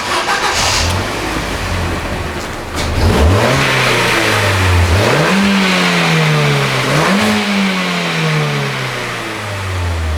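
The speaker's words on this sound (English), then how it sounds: "So as you can hear, the stock exhaust is just not it." A Ford Fiesta Zetec S on its stock exhaust, idling and then revved several times. Each rev rises in a smooth sweep and falls back, loud and close, with a mid-pitched engine tone and no voices.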